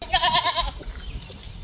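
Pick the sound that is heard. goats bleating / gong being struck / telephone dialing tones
goats bleating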